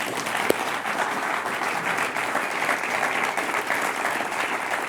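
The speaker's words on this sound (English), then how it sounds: "If you want to applaud right now," Studio audience applauding at the close of a congressional debate, a steady, moderately loud patter of many hands clapping together without pause.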